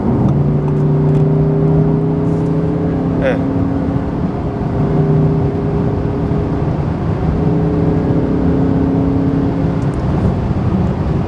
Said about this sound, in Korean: 실내에서도 배기음이 상당히 매력적으로 지금 들려오고 있는데